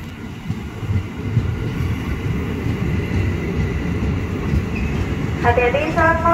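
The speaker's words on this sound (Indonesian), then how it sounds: "Masuk di jalur 2 komuter tujuan akhir stasiun Bogor rangkaian 12 kereta." A twelve-car KRL commuter train bound for Bogor pulls into track 2 at Jayakarta station with a steady rolling rumble, and a short announcement chime sounds near the end.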